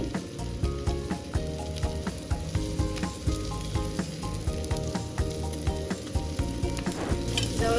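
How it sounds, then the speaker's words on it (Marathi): Rava-coated bangda mackerel fries in oil with a loud, continuous sizzle full of crackling pops and spits, steady throughout and close up, with no talking. "छान असं फिश चांगली फ्राय करून घ्यायची आहे। थोडंसं तेल घालते।"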